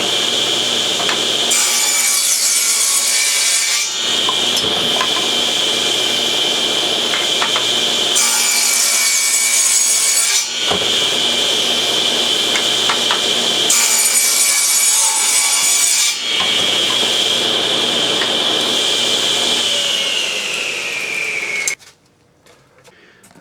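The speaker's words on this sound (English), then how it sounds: "now we're going to make another perpendicular cut for the groove" A table saw cuts a perpendicular groove in wood over and over, each pass a loud whining buzz with a steady high tone lasting a few seconds, separated by short lower pauses, before the motor winds down.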